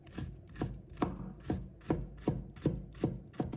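A knife shreds slices of fresh ginger for a home-style pickled mustard and shredded pork dish, with about eight crisp, evenly spaced chops close up and no voices.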